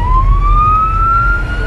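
An ambulance siren wails loudly nearby in a slowly rising tone over low engine rumble, with no talk.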